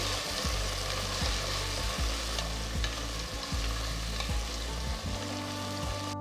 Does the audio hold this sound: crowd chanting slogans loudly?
no